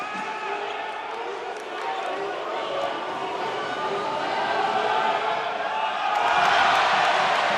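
Basketball arena crowd at a FIBA Women's AfroBasket 2021 quarter-final, Cameroon versus Egypt, during a free throw, a continuous loud roar of shouting that swells toward the end, with a commentator talking over it.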